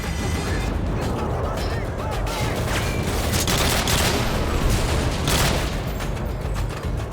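Dense gunfire and booming explosions of barrels fill a Call of Duty MW2 battle, loud and continuous with overlapping shots and blasts throughout.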